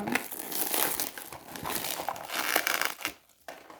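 Crinkling and crushing of plastic wrapping on a maxi surprise magic box toy holding mixed-fruit sugared gum, a steady rustling that runs close and fairly loud, dipping briefly near the end.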